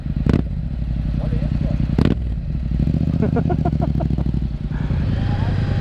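A Yamaha MT-07 motorcycle engine runs steadily with a low, even throb and a few sharp knocks, while people talk over it.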